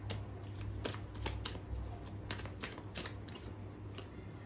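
Tarot cards being shuffled during a reading, a steady run of crisp riffling and slapping card sounds close by, with a low hum underneath and no talking.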